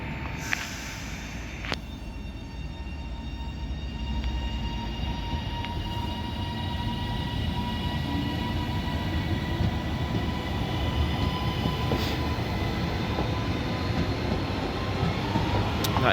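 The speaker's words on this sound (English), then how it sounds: "departing now is going to be the 1513 Transpennine Express service to Manchester Airport" A TransPennine Express class 397 electric train, unit 397004, pulls out of Oxenholme station on the West Coast Main Line, a steady continuous rumble with a faint high tone and occasional clunks across the whole stretch.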